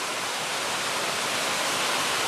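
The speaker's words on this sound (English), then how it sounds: "There's a creek down there. You can hear it rushing over the rocks" Creek water rushing over rocks below an abandoned silver mine, a steady, dense, hissing wash of flowing water that stays even throughout with no voices.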